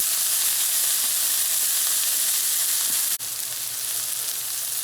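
Jalapeno peppers and onions sauté in oil in a pan, a loud, continuous sizzle and hiss that holds steady, with a brief dip near the end.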